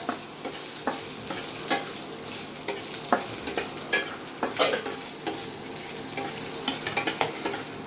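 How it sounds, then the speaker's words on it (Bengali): Julienned ginger and garlic frying in oil for an eggplant pickle, with a steady sizzle and repeated sharp scraping stirs against the pan, close and fairly loud, no talking. "এইভাবে ভেজে নিতে হবে এই জুলিয়ান করা আদা রসুনটা"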